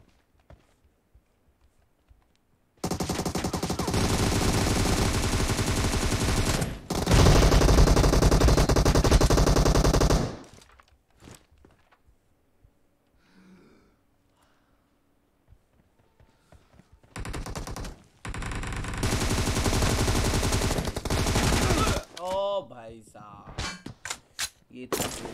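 Rapid automatic gunfire from a PUBG Mobile match, two long loud bursts in the first ten seconds, quieter scattered shots and game sounds, then another sustained stretch of firing toward the end.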